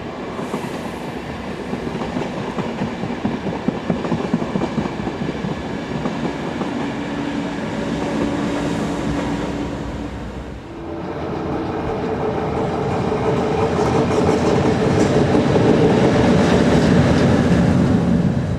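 A Class 4010 multiple-unit train, its leading car in old white and blue livery, rumbles past on a European railway with a steady, loud roar of wheels on track that swells toward the end.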